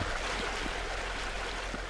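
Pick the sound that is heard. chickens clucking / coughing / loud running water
loud running water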